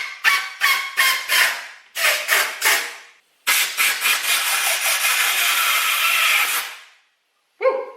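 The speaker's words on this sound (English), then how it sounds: "Basically what I'm doing is blowing air into here, it's expanding the grip so it can escape, and then I'm pushing it on while it's loose." Compressed air is blown in loud hissing bursts into a motorcycle handlebar grip as it is pushed onto the bar: several short pulsed blasts, then a longer sustained gust, silence, and one brief final puff.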